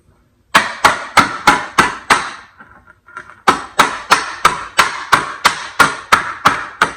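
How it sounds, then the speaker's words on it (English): Sharp hammer blows strike metal saw horse brackets in a steady rhythm, about six quick hits, a short pause, then around ten more evenly spaced strikes, loud and close. "Let's get a hammer."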